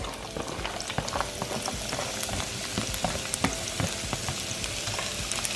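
Vegetables fry in hot oil in a pan while mushroom barley soup is being made, producing a continuous close crackling sizzle dotted with sharp pops and spits throughout.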